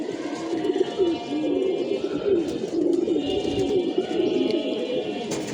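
Several pigeons coo steadily in a loft of young squab, layered low murmuring calls overlapping continuously at close range, with faint chirps and background noise.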